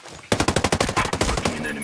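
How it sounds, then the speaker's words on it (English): A fast burst of automatic gunfire in a military shooter video game: a dozen or so rapid, evenly spaced loud shots over about a second and a half, close and sharp. "Hostiles are shooting."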